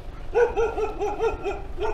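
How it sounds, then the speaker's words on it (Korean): A dog at the house behind barks in a quick run of about eight sharp yips, fairly close and loud, with a short pause before a final bark. "뒷집에 강아지가 좀 있네요"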